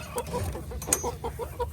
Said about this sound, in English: We have 1 white rooster.